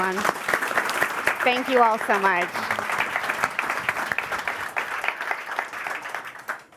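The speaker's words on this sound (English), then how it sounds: "Please give them a round of applause, everyone" A round of applause from the audience at a London climate action summit, a dense even clatter of many hands that runs throughout while someone speaks over it at the start and the clapping gradually thins and fades.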